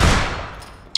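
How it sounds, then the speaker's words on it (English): A loud burst of rapid gunfire from the online shooter APB Reloaded, close and dense at first, then trailing off over about a second before a brief sharp click at the end. "Shot him a couple of times."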